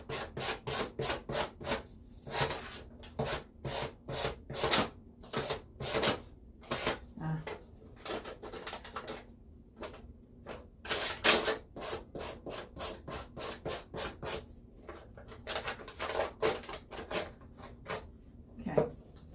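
Rough-grit sandpaper rasps in rapid back-and-forth strokes, close and fairly quiet, with brief pauses between bursts of steady rhythmic rubbing.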